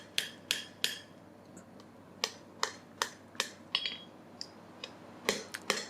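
Handmade ball peen hammer striking and spreading metal in a blacksmith setting, a series of about fifteen crisp, ringing metallic taps at an uneven pace, fairly faint and without talk.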